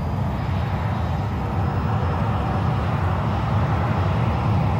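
Simulated AV-8B Harrier jet engine in X-Plane 11 throttling up, a steady loud roar with broadband rumble holding constant throughout, no voices.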